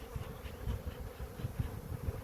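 Honey bees hum low and steady inside a half-used hive box during a late-April inspection, a soft continuous buzz with faint pulsing swells and no voices.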